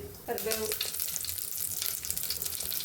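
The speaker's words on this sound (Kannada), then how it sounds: "ಒಂದು ಪಾತ್ರೆಯನ್ನು ಇಟ್ಕೊಂಡು ಸ್ವಲ್ಪ ಅಡುಗೆ ಎಣ್ಣೆಯನ್ನು ಹಾಕಿ ಸ್ವಲ್ಪ ಸಾಸಿವೆ ಸ್ವಲ್ಪ ಜೀರಿಗೆ" Mustard seeds and cumin frying in hot cooking oil in a pot, a steady close sizzle with brief crackling that holds throughout.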